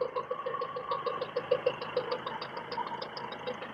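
A car engine idles steadily nearby with a fast, even mechanical ticking over a low hum, no voices.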